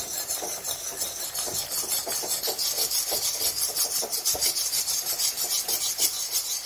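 Egg halwa being stirred in a pan with cardamom and ghee, a steady rhythmic scraping and rubbing of the spoon against the pan, close and continuous.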